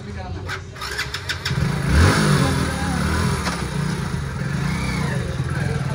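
A Hero motorcycle, freshly serviced, fires up and revs before settling into a steady running engine note as it pulls away on a test ride, with voices in the background.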